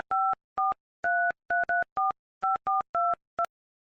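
Telephone keypad tones dialing a call: about a dozen short, clean two-tone beeps in an uneven rhythm, close and clear, with no voices.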